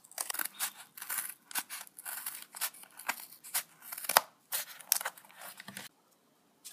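Scissors snipping through paper to cut rectangles, a run of quick crisp cuts in an irregular rhythm, close and fairly quiet, with no talking.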